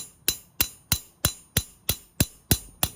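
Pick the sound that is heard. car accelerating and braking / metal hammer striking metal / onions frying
metal hammer striking metal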